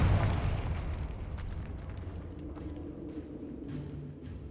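A Confringo fire spell bursts in Hogwarts Legacy with a heavy, booming blast right at the start, then a rumbling tail that fades into quieter crackles and faint pops.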